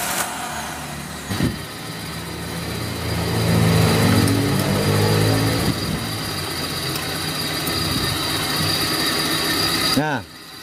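A Suzuki Karimun engine idles steadily with its battery cable disconnected, a low mechanical drone with a brief surge near the middle, ending in a short falling whine.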